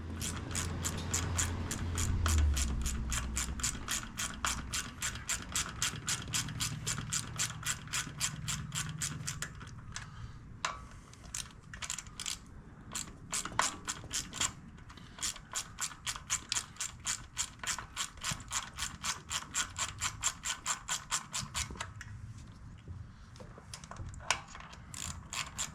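A hand ratchet removing two 5/16 bolts on a 2008 Harley-Davidson Sportster 883, producing fast, evenly spaced clicking in long runs with short pauses between strokes, close and fairly quiet.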